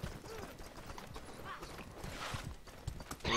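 A horse in Mordhau gallops with quick, fairly faint hoofbeats amid busy game ambience.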